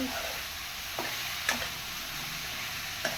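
Okra sabzi fries in a pan with a steady sizzle, broken by a few sharp scrapes and clinks of a spoon stirring against the metal, close by and with no voices.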